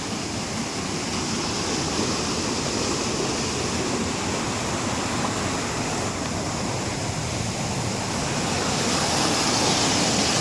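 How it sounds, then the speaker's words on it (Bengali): Water rushes through a canal in a steady, dense roar of current, close and continuous with no pauses or voices. "যেমন জলের স্রোত চলছে এখানে জল ছেড়েছে ক্যানেলে"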